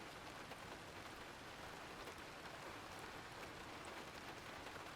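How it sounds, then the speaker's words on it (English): Steady rain falls continuously, a dense broadband hiss of drops on a surface with no breaks, moderately loud and even throughout, with no voices. "It was rainy yesterday."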